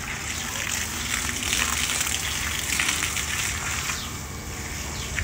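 Water gushes and splashes continuously while vegetables are watered in the early morning, a bright hissing spray that stays fairly close and steady throughout.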